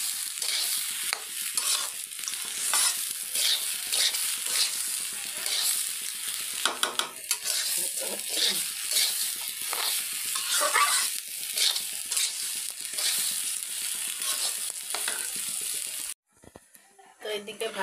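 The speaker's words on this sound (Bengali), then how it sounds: "এদিকে আমি ছোলার চালটা ভেজে নেব।" Rice sizzles while being fried and stirred in a pan, a dense steady hiss broken by scraping stirs and clinks of the spatula, close and loud, ending with a brief quieter stretch.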